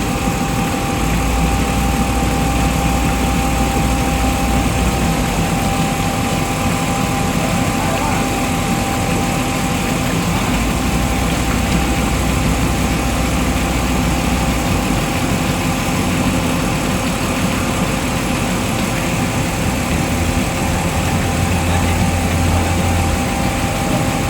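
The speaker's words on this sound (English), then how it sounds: "Just waiting for the concrete truck" Concrete truck engine running steadily at a concrete pour, a continuous loud rumble with a low drone that holds throughout, mixed with broadband noise of the site.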